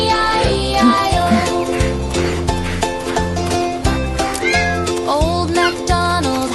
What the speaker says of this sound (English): meow, there a meow, everywhere a meow meow